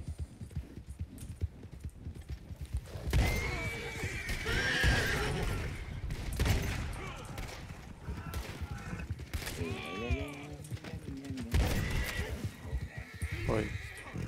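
Horse neighs and whinnies with clip-clopping hooves in a video game, several whinnies rising over intermittent galloping steps while someone talks over the game sounds.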